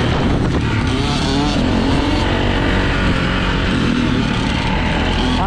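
A 125cc two-stroke dirt bike is ridden on a motocross track at Riverdale MX, its engine a loud, continuous, buzzing roar with shifting revs through the whole stretch, close to the listener.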